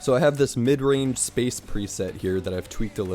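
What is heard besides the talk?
None of the usual background noises is heard.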